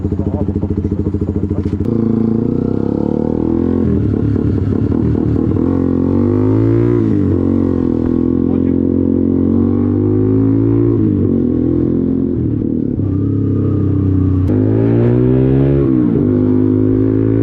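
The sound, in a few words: Zontes 125 scrambler motorcycle engine started and running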